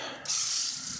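A burst of water spray starts abruptly and hisses steadily as it rinses a motorcycle chain, loud and close after a brief quieter lead-in.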